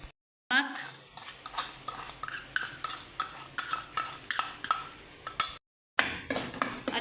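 A utensil scrapes and clinks against a pot while spices are stirred and mixed, in a quick series of close metallic taps and scrapes broken by two brief pauses.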